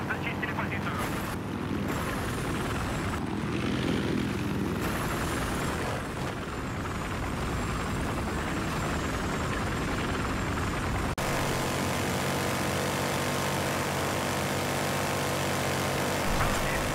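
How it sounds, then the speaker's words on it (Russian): A transport helicopter in the video game Battlefield Hardline gives a continuous rotor and engine drone throughout, steady and fairly loud, mixed with game sounds while voices talk over it. "Там транспортный вертолет!"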